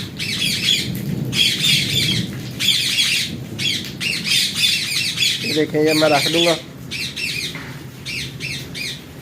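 Caged parrots screech in repeated harsh, high bursts during rain in Sargodha, the squawks coming in close clusters over steady rainfall while someone speaks briefly in the middle.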